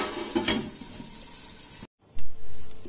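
Moringa leaves frying in oil in a pan, with a quiet sizzle and clattering stirring strokes, a brief dropout, then louder scraping against the pan.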